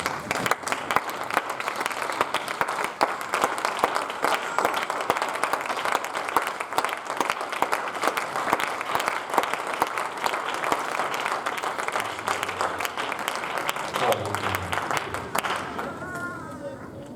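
A church congregation applauds, sustained dense clapping from a large crowd that fills the room at a steady level before thinning out near the end, with voices mixed in.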